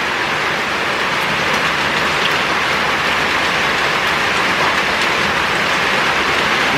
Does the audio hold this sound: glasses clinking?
no